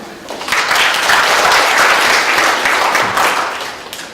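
An audience claps after a lecture at a regional employment policy academy, warm sustained applause from a roomful of people that swells and then tapers off.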